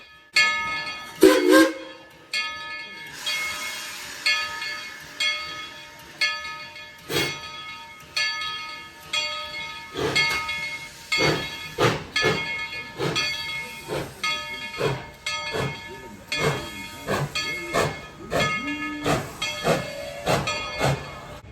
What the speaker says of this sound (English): You see the train do this cutest itty bitty little wheel slip as it's trying to pull out.